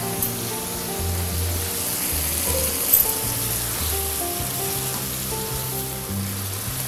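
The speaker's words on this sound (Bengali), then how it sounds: "ভুনতে ভুনতে এই পেঁয়াজ মরিচগুলো হাফ ডান হয়ে যাবে।" Onions and green chilies fry in hot oil, giving a steady, soft sizzle that runs unbroken throughout under quiet background music.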